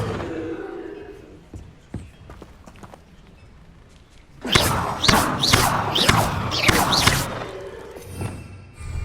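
The Incendio fire spell goes off in Hogwarts Legacy, a sudden loud burst of crackling, thumping blasts lasting a few seconds after quieter footsteps and scattered knocks.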